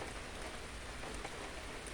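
Rain falls steadily on a smallholding farm with trees after a long dry spell, a soft, even hiss with no breaks and no one speaking.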